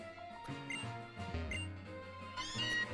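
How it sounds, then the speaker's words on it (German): Cartoonish cat meows from Pokémon Ultra Sun, several short mewing calls over busy game music on a route lined with cats. "Miau."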